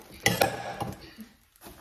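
A cute little Pioneer Woman saucepan from a cookware set clatters as it is handled, two sharp metallic knocks close together near the start, then softer scrapes fading toward quiet.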